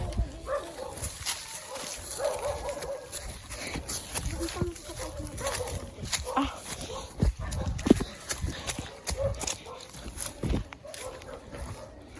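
A dog barks a few times in the background, mixed with clattering and shuffling noises while people talk nearby.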